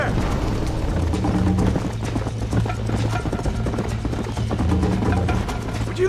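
Horse hooves gallop in a steady, rapid clip-clop through the Red Dead Redemption game world, loud and continuous with a busy low rumble beneath, while a voice talks over the ride.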